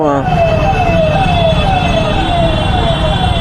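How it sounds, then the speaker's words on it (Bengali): An ambulance siren wails in repeated falling sweeps through a traffic jam near a railway gate crossing, loud and close over a low engine and traffic rumble. "যাও না বাবা, অ্যাম্বুলেন্স চালাচ্ছ তো, যাও"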